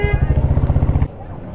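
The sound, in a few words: motorcycle at Ghum railway station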